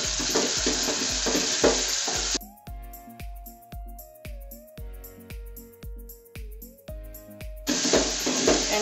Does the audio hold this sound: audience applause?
no